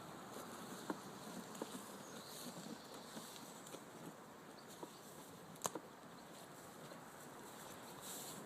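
A honeybee colony at an open hive in early June, around swarming season, gives a faint, steady buzz throughout, with a few brief clicks and taps standing out over the hum.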